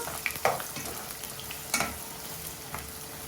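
Two medium onions sizzle softly in a pan, a steady faint frying hiss broken by a few sharp stirring clicks and scrapes.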